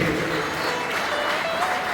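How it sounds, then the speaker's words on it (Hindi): Audience applause at a track maintainers' railway employees' union conference, a steady wash of clapping from a hall crowd held at even level throughout. "सभी के लिए एक बार जोरदार हाथ ताली होना चाहिए।"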